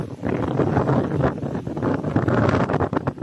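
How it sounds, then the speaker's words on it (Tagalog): Strong wind buffets the microphone on a hilltop on an island, a loud continuous rushing roar with gusty swells and no voices. "Suging hangin diri manggol."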